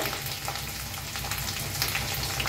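Turmeric frying in hot oil with green chili garlic paste, a steady dense crackling sizzle that stays close and even throughout.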